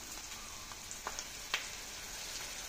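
Blended tomato sizzles quietly in a pan, a soft, even hiss with a few sharper spits and a clink or two, faint and close, without any voices.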